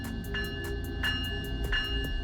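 A road relay train locomotive idles in the Trainz railway game at a coastal division yard, with a steady low rumble under an evenly repeating bell-like ding, loud and without talk.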